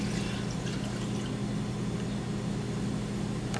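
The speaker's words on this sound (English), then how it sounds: "put in 2 cups of water." Two cups of water pour into a cooking pot on a stovetop, making a steady splashing rush with a low constant hum underneath.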